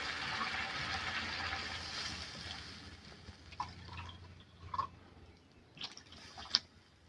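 Water is poured into a cooking pot for vegetable masala Maggi noodles: a rushing, splashing pour fills the first few seconds, then fades into scattered drips and small splashes, fairly quiet and close by.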